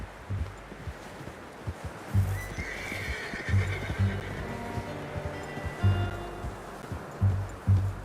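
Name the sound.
horse neighing in a video game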